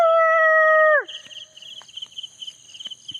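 Stray dogs at night give a sustained, loud howl lasting about a second before it cuts off, followed by quieter scattered yelps and insect chirps in the background.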